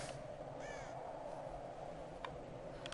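Ravens in the 2013 Tomb Raider video game give a short harsh caw against a steady ambient game background, fairly distant and faint, with no talk.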